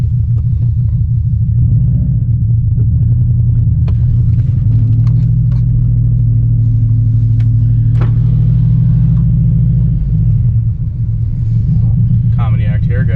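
A deep Subaru WRX engine rumbles loudly from inside the car on an evening drive, its pitch shifting as it drives and accelerates, with faint clicks and sounds above.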